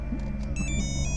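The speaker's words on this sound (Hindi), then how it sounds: "इसका फोन आ गया" A mobile phone rings indoors, its short electronic tones repeating in a quick pattern over a low background hum.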